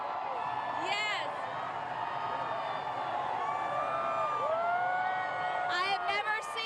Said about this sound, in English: I have never seen so many people cheer so loudly in my life.